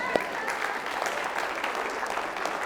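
A lecture-hall audience at a mathematics talk claps steadily for about three seconds, a dense, even patter of many hands that stays near and moderately loud throughout.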